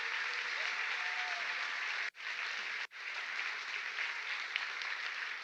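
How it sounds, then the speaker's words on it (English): Sustained audience applause for children performing in a church musical, dense and steady clapping that fills the room, briefly cut off twice before resuming. "Let's give them another round of applause."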